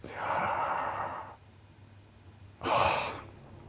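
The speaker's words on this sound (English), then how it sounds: "Big deep breath." A big deep breath during a breathwork exercise: a long, close airy inhale, a pause, then a strong breathy exhale, loud and near.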